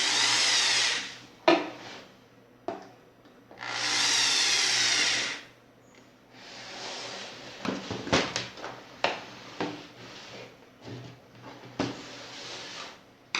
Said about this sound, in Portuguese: Eu vou utilizar a parafusadeira para acelerar um pouco, dessa forma.